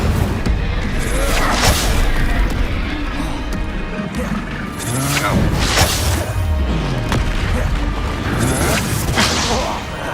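Incendio fire spells blast repeatedly in Hogwarts Legacy, loud whooshing bursts with crashing impacts over a dense battle din, with voices shouting underneath.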